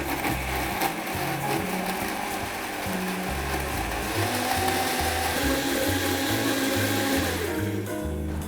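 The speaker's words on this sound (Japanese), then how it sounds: "それでミキサーで回していきます。" A blender whirs steadily, mixing heated oil with spices for homemade corned beef, its motor droning loud and continuous with a slight shifting hum.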